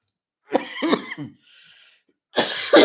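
Two harsh coughs close to the microphone, followed by a short breathy pause and another rough cough burst.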